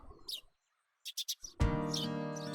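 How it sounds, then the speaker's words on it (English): Morning birdsong in the visual novel Higurashi: a few brief bird chirps, then a run of quick tweets, before a loud sustained musical tone takes over. "Outside the window I could hear a morning birdsong that sounded totally different from what I heard on weekdays."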